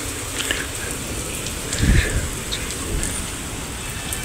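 Steady rain hisses across the whole stretch, with a brief louder splash of water near the middle.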